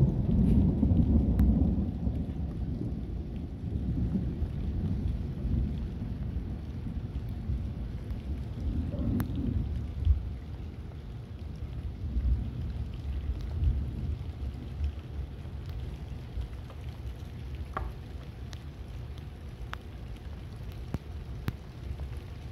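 Heavy rain pours during Hurricane Hilary, a dense steady wash of drops with deep rolling thunder rumbling loudest early on and fading after about ten seconds.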